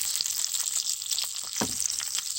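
Eggplant rolled in hot oil in a pan makes a dense, continuous close sizzle, with a soft scrape or shift of the pieces partway through and no voices.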